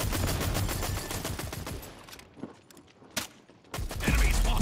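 Bursts of automatic gunfire in the shooter game Rogue Company pour in from two directions. The loud, rapid volleys thin into sporadic single shots before a heavy closing spray.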